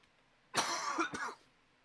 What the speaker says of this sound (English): Dude, the cough will not fucking go away.